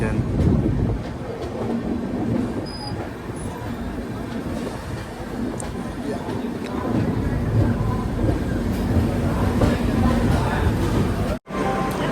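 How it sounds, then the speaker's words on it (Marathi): Steady, loud rumbling of a train halted at Ratlam Junction railway station, with dense mechanical noise and murmuring in the background for the whole stretch. "रतलाम स्टेशनला ट्रेन थांबली"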